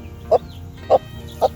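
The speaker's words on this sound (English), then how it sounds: "listen to Lilac as she makes this constant rhythmic clucking noise" A broody hen named Lilac clucks in a slow steady rhythm, three evenly spaced low clucks about half a second apart, close and clear over a quiet background.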